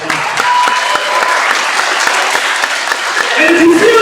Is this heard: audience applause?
yes